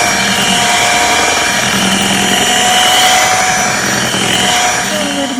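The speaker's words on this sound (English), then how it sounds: "So I'm adding this pudding to that mixture. The vanilla pudding. And then we'll whisk for a minute." Vanilla pudding is whisked into a cream cheese and condensed milk mixture, most likely with a power mixer, giving a steady close motorized whir that continues throughout without talking.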